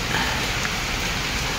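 Steady rain pours down during a typhoon in the Philippines, a dense, continuous hiss with a low, gusty rumble of wind underneath, no voices.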